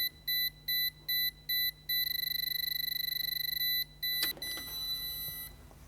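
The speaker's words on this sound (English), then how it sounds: "The unit will start to beep slowly, followed by a rapid beep" An RollMatic T 868 MHz wireless safety edge receiver beeps slowly five times, then breaks into a rapid continuous beeping, followed by a click.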